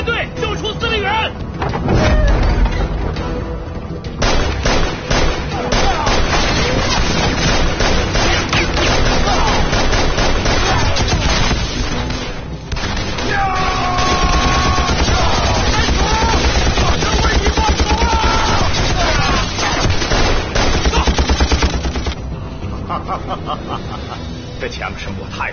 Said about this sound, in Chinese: 这枪声我太熟悉了